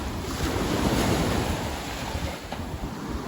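Steady wash of ocean surf at a Thai beach mixed with gusting wind buffeting the microphone, continuous and fairly loud, no voices.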